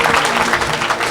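Church congregation applauding during an evangelical service, loud, dense and continuous clapping from a full room throughout.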